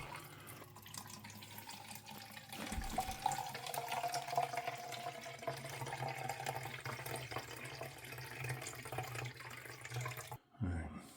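Vodka poured into a measuring cup, a steady trickling liquid stream running close and continuous for about ten seconds, then stopping abruptly near the end.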